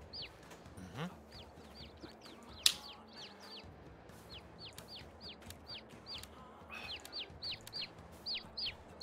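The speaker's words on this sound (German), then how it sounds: "Unsere Hühner, die laufen hier frei rum." Free-roaming chickens on a farm in Farming Simulator 22, clucking repeatedly in short, quick calls over a quiet outdoor ambience, with one brief louder click partway through.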